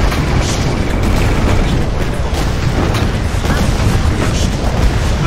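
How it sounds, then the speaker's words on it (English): Airstrike explosions in the game Renegade X on the Islands map: a dense, continuous roar of overlapping booms and blasts, loud and unbroken, with faint voices underneath. "Airstrike."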